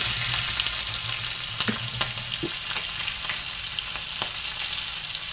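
Cumin seeds, asafoetida and green chilli fry in hot oil with a steady, close sizzling hiss, a few soft clicks of stirring over it, and no voices.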